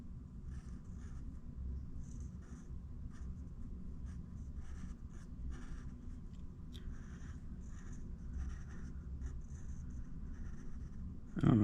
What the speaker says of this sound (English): I'm gonna draw a little airplane because I want to travel.